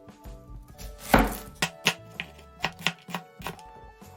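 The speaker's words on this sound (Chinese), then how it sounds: "咱们再切点洋葱。" Onion chopped with a knife on a board for curry chicken rice, a loud scrape at the start followed by about a dozen distinct close, crisp chops in an uneven rhythm, with no voices.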